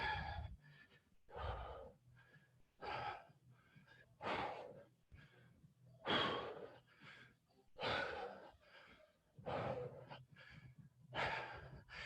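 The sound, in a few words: forceful exhaling during overhead presses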